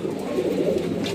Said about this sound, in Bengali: এটা একটা নর পায়রা ম্যাট্রাস পায়রা